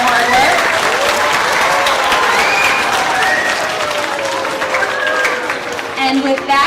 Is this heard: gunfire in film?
no